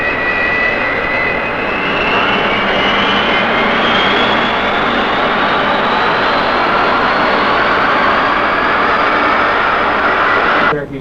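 Airplane engines run at Orange County Airport in 1970, a loud, steady roar with a whining tone that slowly rises, held for the whole stretch and then cut off sharply at the end.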